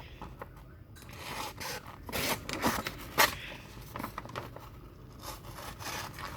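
Leatherman Micra multi-tool scissors snip through a sheet of paper with a few crisp, close cuts scattered over a quiet background.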